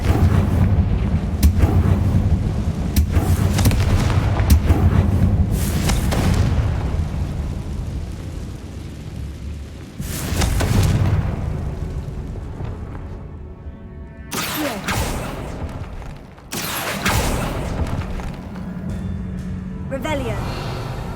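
Repeated Confringo spell explosions in the video game Hogwarts Legacy: a series of loud booms and bursts with crackling tails, spaced irregularly over a rumbling background, with a voice speaking between them.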